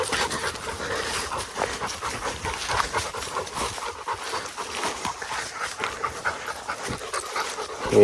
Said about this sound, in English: I can hear the dogs panting louder than me